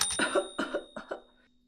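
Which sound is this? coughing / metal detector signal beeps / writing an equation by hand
coughing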